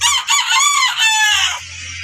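A rooster crows loudly and close, one long drawn-out call that rises and falls.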